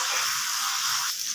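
Pangas fish kofta frying in a pan gives a steady, close, dense sizzle that holds unbroken throughout, with no voices.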